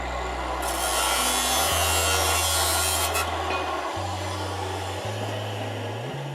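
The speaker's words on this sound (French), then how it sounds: "Ici, découpe de pièces du bâti." Machine cutting of metal parts for the frame of a self-steering autopilot on a sailboat, a loud steady grinding whine with harmonic tones that shift pitch several times, no talk.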